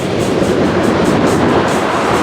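A loud, steady rumble of a train in Douglasville rolling past close by, broad and continuous with faint rhythmic clatter and no voices.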